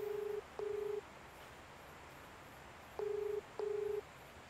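Phone call ringback tone: two pairs of short, steady electronic beeps, each pair followed by a pause, clear and fairly quiet over faint outdoor background.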